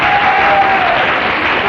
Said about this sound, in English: I can hear the guys cheering here